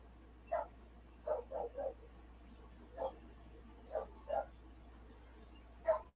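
Distant dog barks in short bursts, some doubled, spread irregularly over several seconds against a quiet steady background hum.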